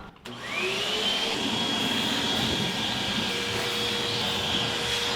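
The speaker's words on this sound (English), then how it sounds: "I got the vacuum over here. Let's go ahead and vacuum it out." A vacuum cleaner whirs to life and runs steadily and loudly, vacuuming out a jon boat, a continuous motor drone with a high whine.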